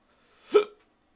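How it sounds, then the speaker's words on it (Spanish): A single sharp hiccup, close and loud, isolated in otherwise silent surroundings. "Me dio hipo."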